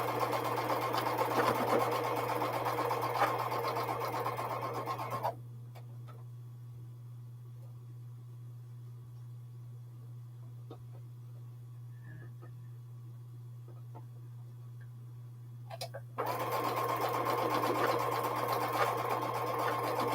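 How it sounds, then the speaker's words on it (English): A sewing machine stitches a quilt block seam in two bursts, one at the start and one at the end. Between them is a quiet stretch of about eleven seconds with only a low steady hum and a few light clicks. "I wanted a seam to lay flat, and it is sewing open"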